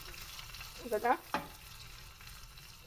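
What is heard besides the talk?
tempering sizzling with chilli and sesame seeds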